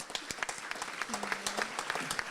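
Applause at a 2013 gala dinner, a fairly quiet scattering of claps with a brief tonal sound in the middle and voices mixed in.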